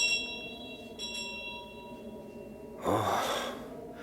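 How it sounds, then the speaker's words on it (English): A bell rung by pulling its rope in a radio drama, set somewhere the Father Superior is being summoned; a single clanging ring rises from a quiet, humming background and then fades. "Is that a bell rope up there?"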